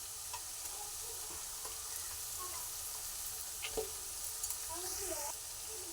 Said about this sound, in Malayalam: ക്യാബേജ് നമുക്കൊന്ന് ഇതുപോലെ ഒന്ന് വഴറ്റിയെടുക്കണം.